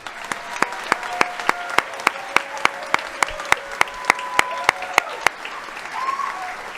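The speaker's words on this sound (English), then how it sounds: "let's please join me in a round of applause to show our appreciation" Audience applause at a high school senior awards ceremony, with sharp, evenly spaced claps standing out over a softer wash of clapping that keeps going steadily.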